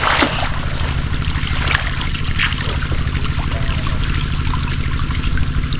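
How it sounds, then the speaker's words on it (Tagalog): Water trickles and splashes steadily beside a hut while a calamansi tree is watered, a continuous wash of running water over a low mechanical hum, close and fairly loud throughout. "tubig na tayo dito sa Kalamansi sa tabing kubo"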